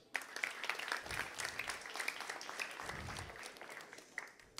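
Audience at a youth religious gathering clapping briefly, a moderate burst of hand claps with distinct individual claps standing out and crowd voices mixed in, fading unevenly toward the end.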